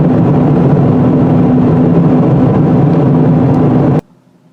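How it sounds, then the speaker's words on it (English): Road noise inside the cabin of a 2017 Mazda MX-5 RF light sports car while driving: a loud, steady broadband roar with a low hum, running unbroken before cutting off abruptly near the end. "There's a lot of road noise coming into the cabin here."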